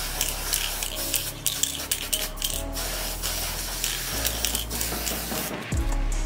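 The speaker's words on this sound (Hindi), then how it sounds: "इनको भी एक काम करते हैं एक ही बारी में स्प्रे कर लेते हैं एक साइड से" Bursts of an aerosol spray can hissing as helmet hangers are spray painted, several close pulses of varying length with short pauses between, no talking.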